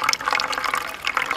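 Water is poured into a container during a home test of a super absorbent polymer gel for farming, a brief, close, bubbling and gurgling pour with no voices.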